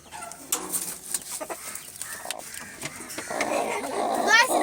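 Young chicks in a coop peep and cluck in a busy, close cluster of high calls, with rustling and rising activity toward the end.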